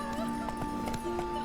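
Roach the horse trots in The Witcher 3, soft rhythmic hoofbeats clopping evenly under a sustained musical drone.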